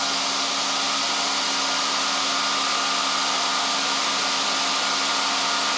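Drive motor of the SAQ Grimeton alternator radio transmitter running at steady speed, a loud, continuous, even whine and hiss with fixed hum tones and no change across the clip.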